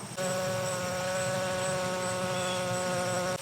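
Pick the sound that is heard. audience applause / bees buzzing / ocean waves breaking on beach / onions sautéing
bees buzzing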